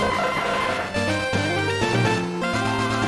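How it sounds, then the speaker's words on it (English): The Exeggcute cry in Pokémon Leaf Green, a few quick warbling synthetic blips layered over looping game music, fairly loud throughout with no voices. "That's the cry of an Exeggcute."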